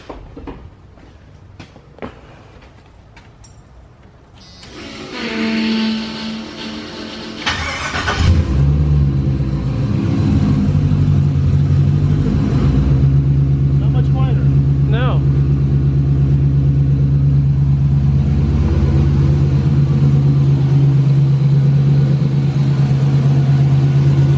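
A starter cranks and the 5.3 V8 of a 1986 Chevrolet C30 dually truck with a MagnaFlow exhaust catches, then settles into a deep, loud, rumbling idle with a throaty exhaust tone that holds steady.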